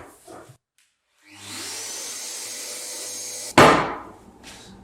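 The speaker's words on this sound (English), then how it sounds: "so we're just going to sand that down now just to see what kind of finish that we've got" Power sanding of a cured two-pack timber corner repair, a steady abrasive whir that starts about a second in, holds for a couple of seconds, then ends with a sharp knock.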